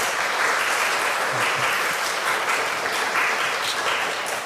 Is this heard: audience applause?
yes